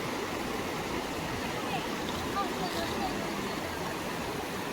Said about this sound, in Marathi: पाणी बघा कसला फोर्स नाही